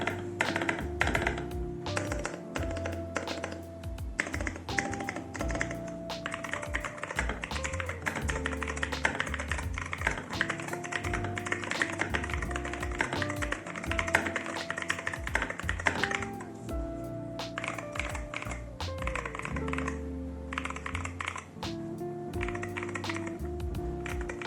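Fast typing on a MADLIONS MAD 68 R rapid-trigger mechanical keyboard, dense close clacking keystrokes running continuously with brief pauses, heard alone without talk.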